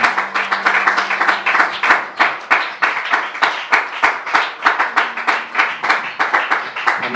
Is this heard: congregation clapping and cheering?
yes